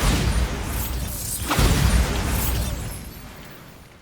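The Bombarda blasting spell goes off in Hogwarts Legacy as one heavy, booming explosion with a rumbling low tail that fades out over a few seconds, loud and close, with no voices.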